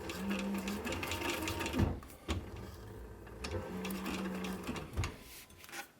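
A sewing machine stitches leather for work mittens, running in two steady mechanical bursts with a brief pause and a few clunks between them, close and moderately loud.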